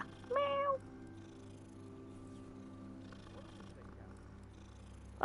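A video game cat in Hogwarts Legacy gives a short, close meow at the start, then a soft, steady low rumble carries on underneath quiet in-game background sounds, ending with a brief sharp sound.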